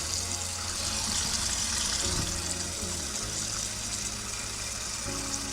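Running water from a tap pours steadily over salmon roe being rinsed, a constant close gushing hiss with faint low hum underneath.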